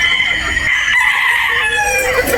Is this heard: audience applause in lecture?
no